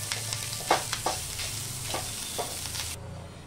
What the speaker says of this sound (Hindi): एक पैन में घी डालेंगे, नारियल डालेंगे और इसे अच्छी तरह से मिला लेंगे।